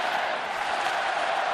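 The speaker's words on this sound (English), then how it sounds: "Let's go Pens chant from this sellout crowd" A sellout crowd at Mellon Arena chants during a playoff hockey game between the Philadelphia Flyers and Pittsburgh Penguins, a dense, continuous roar of many voices filling the arena at steady volume.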